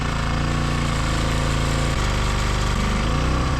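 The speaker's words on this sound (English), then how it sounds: "use the drill to spin the oil pump" A loud, steady mechanical whir and rattling drone of a power drill running continuously, shifting pitch slightly as it spins the engine oil pump of a 2.2 Dodge.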